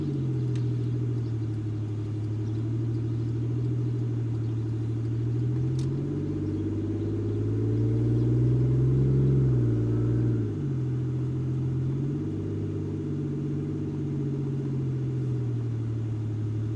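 A Toyota Aristo rumbles steadily at low speed as it pulls into a shop, its deep engine drone swelling briefly midway before settling back to an even, close idle-like hum with no voices.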